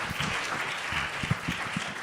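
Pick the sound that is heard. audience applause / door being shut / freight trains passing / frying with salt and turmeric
audience applause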